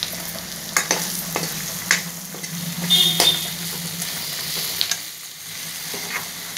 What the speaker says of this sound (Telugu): బెండకాయ ముక్కలు కూడా వేసేద్దాం ఇప్పుడు బెండకాయలను మంచిగా ఫ్రై కావాలండి